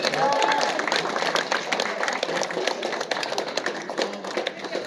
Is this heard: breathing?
no